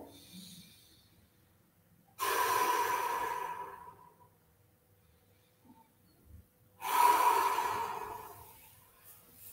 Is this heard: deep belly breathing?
yes